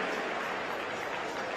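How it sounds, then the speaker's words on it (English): Steady, dense applause from a crowd at a CrossFit Pacific Regional competition, heard right after a heat finishes; the clapping fills the space evenly at a moderate distance without distinct individual claps. "Big round of applause, ladies and gentlemen."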